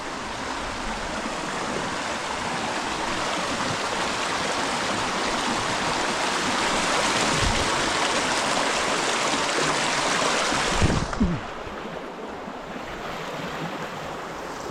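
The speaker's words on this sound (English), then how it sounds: "This is my river, our permanent river" River water flowing outdoors, a steady broadband rush that stays loud and close for most of the stretch, then drops to a quieter wash near the end; no voices.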